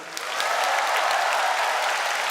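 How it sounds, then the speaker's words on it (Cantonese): An audience claps for the dancers at a live music show, sustained applause that swells quickly and stays dense and even, heard from within the crowd. "希望大家都再次俾最大嘅掌聲，我哋所有嘅每一位 dancer"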